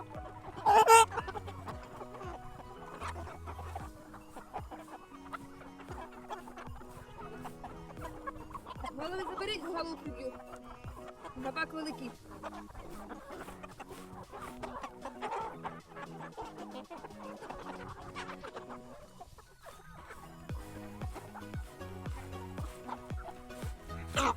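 Hens cluck steadily while pecking at grated vegetables, squash among them, on a small countryside farm, with one loud squawk near the start and busy, overlapping clucks and scratching throughout, close to the listener, with no talking.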